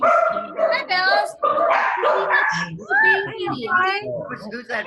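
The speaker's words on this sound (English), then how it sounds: "Who's that barking?" A dog barks in short, sharp bursts close by, mixed with people talking over it throughout.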